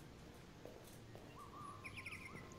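Synthetic robot bird in Detroit: Become Human gives a few short chirps and a rising whistled call, faint over a soft ambient game background.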